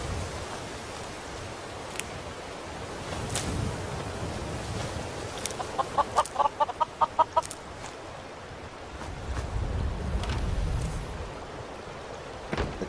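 Chickens in the Skyrim video game give a quick run of rhythmic clucks midway, moderately loud over a steady rain-like game ambience, with a few sharper isolated sounds around them.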